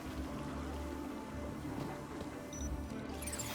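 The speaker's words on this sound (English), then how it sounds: "Commencing spray. Please stand back." A cleaning robot spraying water in the video game Beyond a Steel Sky, a low, faint, continuous hissing and gushing wash under a steady machine hum, with no voices.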